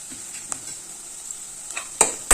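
Onions and green chillies stirred in a pan: quiet soft frying under a few light scrapes, then two sharp metallic clinks of the spoon against the pan near the end.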